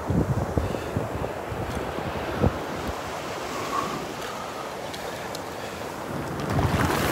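Gulf surf washes onto the beach at Delnor-Wiggins, a steady rushing wash with a few heavier breaks, mixed with wind buffeting the microphone, no voices.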